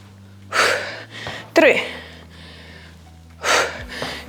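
Heavy breathing during a functional full-body workout: three forceful, close inhale and exhale bursts spaced a second or two apart over a low background hum.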